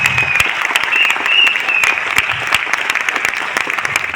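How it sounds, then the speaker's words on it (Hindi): An audience at a celebration event claps enthusiastically in a hall, loud, dense applause sustained for several seconds with sharp individual claps standing out, and no speech over it. "जोरदार ताली चाहूंगा मैं एक बार इसके लिए।"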